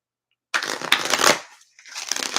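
A deck of reading cards is shuffled by hand in two close, crisp riffling bursts separated by a short pause, alone with no talking.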